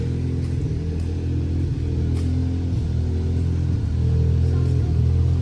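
A car engine idles steadily nearby with a low, even rumble that holds throughout, swelling slightly toward the end, with no talk over it.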